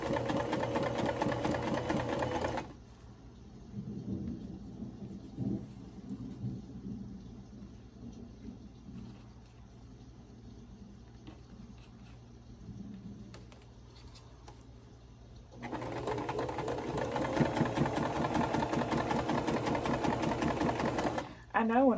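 A sewing machine stitches in two loud runs, at the start and again in the final stretch, with a quieter gap between them where a person talks over the hum of the room.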